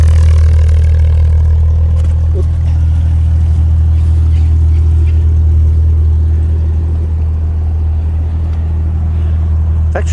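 A Jaguar XJS pre-HE engine runs steadily at idle with a deep, constant low rumble, popping a little and needing a tune, heard up close and loud with no talk over it.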